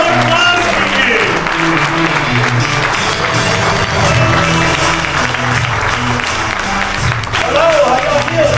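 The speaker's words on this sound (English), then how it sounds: "give a large round of applause" A standing event audience claps loudly for a speaker while music plays underneath, a dense continuous wash of applause with some voices mixed in.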